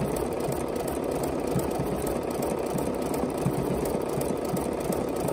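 A Bernina sewing machine runs steadily, its needle stitching in a fast, even mechanical whir that continues without a break at close range and moderate loudness.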